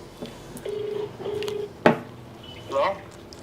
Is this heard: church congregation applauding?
no